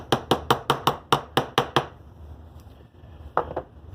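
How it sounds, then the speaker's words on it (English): Sharp hammer blows ring on copper on a small metal anvil, about nine quick, evenly spaced strikes, a brief pause, then two more. "This will keep hammering it flatter and flatter"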